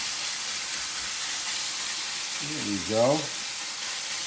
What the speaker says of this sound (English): We'll drop that in. It sizzles, which is what we want.